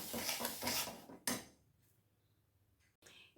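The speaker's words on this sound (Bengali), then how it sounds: "চিনিটা আমাকে সমানে এই ঘিয়ের সাথে নাড়িয়ে যেতে হবে, একদম কিন্তু লো ফ্লেমে" A spoon scrapes and clinks against a pan while sugar is stirred with ghee over a low flame, a quick run of metallic strokes fading into near silence, then one more short scrape.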